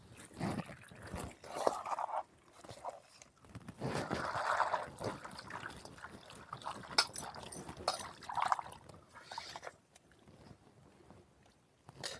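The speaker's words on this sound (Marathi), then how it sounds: "हे आता पाण्याने स्वच्छ धुवून घ्यायचं" Water splashes and sloshes in irregular bursts as vegetables are rinsed and handled, with pauses between.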